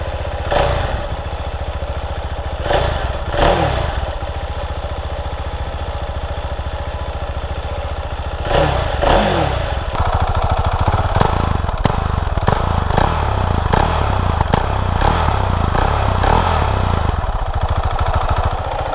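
A Husqvarna Vitpilen 701 single-cylinder 700cc motorcycle cranks with a few short bursts, then catches and settles into a steady, loud, throbbing idle up close with no talking.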